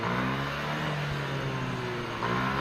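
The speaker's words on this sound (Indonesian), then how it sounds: "kita tes, kita blayar sampai geber supaya teman-teman mengetahui hal ini." A Yamaha NMAX scooter engine, tested after a new VVA rocker arm install, revs and holds a steady whirring drone at close range, with a brief rise in throttle near the end and no talking.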